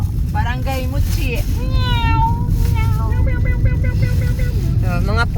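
Several cats meow repeatedly in an island village, with rising and falling cries close by over a constant low engine or boat rumble and surrounding noise.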